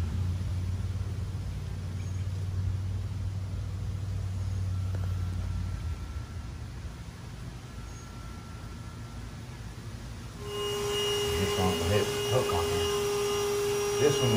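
A vacuum hose held at an angle against wood to suck bees out during a bee removal job, heard as a steady low roaring hum, with a sharper higher-pitched whine joining in toward the end.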